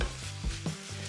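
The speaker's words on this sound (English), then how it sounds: "Always keep an eye on your bacon, because once the fat starts to render out, it's almost like deep frying." Bacon sizzles and spits in a frying pan as its fat renders, a steady close crackle with a few brief stirring scrapes and no talking.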